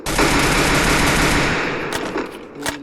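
Automatic gunfire in the Free Fire mobile battle game: a loud, sustained rapid-fire burst runs for over a second and a half, then trails off into a few separate shots.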